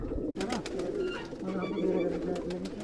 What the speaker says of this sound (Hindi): काफ़ी डर रहे हैं ना कबूतर